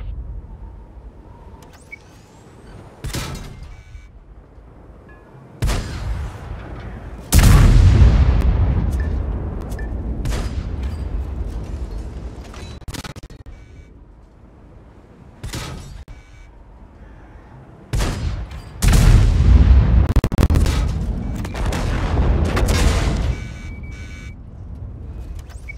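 Heavy tank cannon shots and booming explosions from World of Tanks, several loud blasts with sharp onsets spread across the stretch, each trailing into rumbling engine noise and debris, a few lighter impacts in between.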